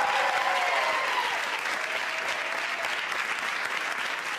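Sustained applause from a large audience, loud and dense at first, then gradually easing slightly while continuing steadily.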